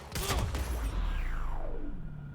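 A short cluster of sharp gunshots from the action game Quantum Break cracks loudly up close, followed by a descending whoosh that fades away, with no talking.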